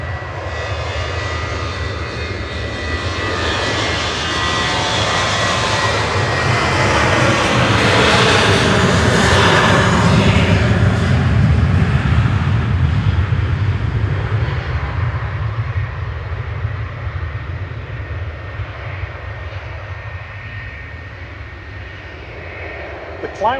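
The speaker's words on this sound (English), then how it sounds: "Departing is Ryanair to Oslo with flight 3226" A Ryanair jet departing Manchester Airport for Oslo, its engines building into a broad roar that peaks mid-way and slowly fades as it climbs away, with a voice talking faintly now and then.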